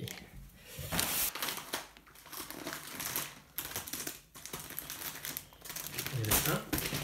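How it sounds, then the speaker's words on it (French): A bundle of wool yarn for tufting a rug is unwrapped from crinkly plastic packaging, giving close, irregular crumpling and rustling bursts while someone talks over it. "Je viens de recevoir la laine, donc du coup je la déballe devant vous"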